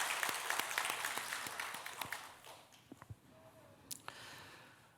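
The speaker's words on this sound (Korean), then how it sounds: "하나님께 감사의 박수 영광 드립니다" Congregation applause at a Sunday afternoon church service, a burst of clapping that tapers off over a few seconds, followed by a few sparse claps and small noises.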